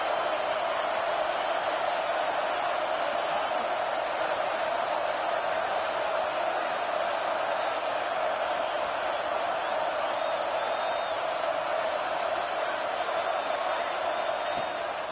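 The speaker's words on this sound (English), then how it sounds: "this crowd is turning it up a notch" College football stadium crowd cheering during a game, a dense, constant roar heard throughout, with talk faintly mixed in.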